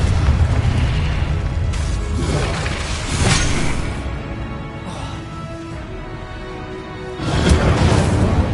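Loud, booming explosions from a Confringo blasting spell in a Hogwarts video game, several heavy blasts rolling over a continuous roar of battle.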